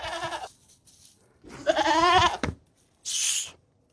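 Sheep bleating in a few separate wavering calls, fairly close and loud, with short quiet gaps between them.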